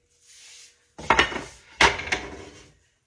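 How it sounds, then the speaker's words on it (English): A red potato rubbed across a kitchen grater in two quick, rasping strokes, each a short burst of scraping and clatter, preceded by a faint hiss. "I'm going to grate it real quickly"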